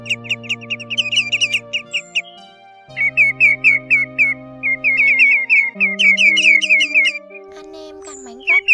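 Flock calls of greenshank and grey-headed sandpiper: loud, close, repeated whistled piping notes in quick rhythmic bursts with brief pauses, carried over a steady low tonal drone.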